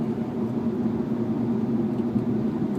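Steady low road and engine rumble is heard from inside the cabin of a car on basic pneumatic tires, a continuous even drone with no talking.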